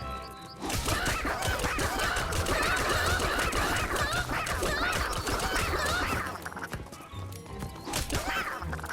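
Chickens in the Skylanders Imaginators video game squawk and cluck loudly in a dense, continuous flurry, layered over game sound effects with a few sharp hits near the end.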